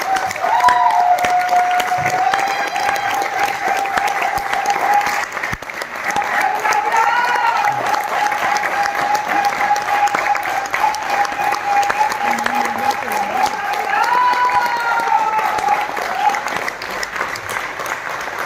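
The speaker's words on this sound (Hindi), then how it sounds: "जोरदार तालियों से आपको इनवाइट करूंगा" Loud, sustained audience applause welcomes a speaker onto the stage at a health and wealth training event, continuous clapping with some cheering while a tonal musical sound plays underneath.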